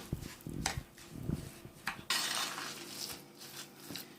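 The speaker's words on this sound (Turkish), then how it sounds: "Tekrar karıştırmaya başladım." Muhammara made with chili powder being stirred in a bowl with a spoon, quiet irregular clinks and scrapes against the bowl, close up with no talking.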